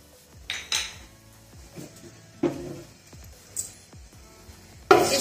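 A metal spoon clinks and scrapes against a cooking pot while whole spices are sautéed: dried red chili, bay leaf, black pepper and cumin. The sharp clatters come in scattered bursts, close and fairly loud, with a faint background in between.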